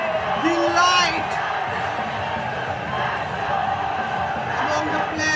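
Passionate home supporters of Shillong Lajong FC at an I-League football match keep up a continuous stadium roar, with scattered whoops and shouts rising over the broad crowd noise.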